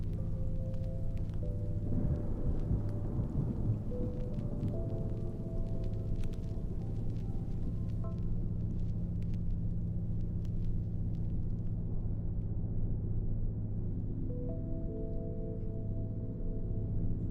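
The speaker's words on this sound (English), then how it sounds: "Here comes the rain." Distant rolling thunder rumbles low beneath a soft wash of rain, with a few faint crackles scattered through the steady background.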